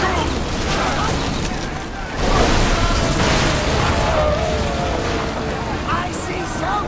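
A heavy boom of ship cannon fire in a naval battle from Assassin's Creed Odyssey, rolling out over sea and wind noise, followed by sustained rumbling, with shouted voices in the mix.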